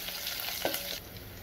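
Dried red chillies, garlic and onions being stirred in a hot pan for a restaurant-style gongura pulusu, giving a steady close sizzle of frying with a soft scrape of stirring.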